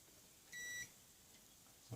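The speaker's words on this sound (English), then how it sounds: "Still beeping." A single short, high electronic beep from a multimeter on continuity test, checking a low-power 3-12 V power supply, lasting about a third of a second against a quiet background.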